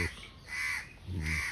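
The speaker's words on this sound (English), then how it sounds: "So this the crow is shouting" A crow caws loudly and close by near a rose tree, giving three drawn-out harsh calls in a slow, evenly spaced series with brief pauses between them.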